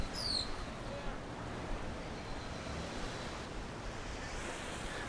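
Waves wash onto sandy Akumal Beach in Mexico in the early morning, a steady broad surf wash with light wind noise and a faint bird call near the start.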